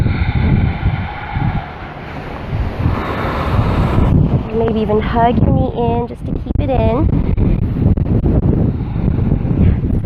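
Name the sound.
wind on a Maui beach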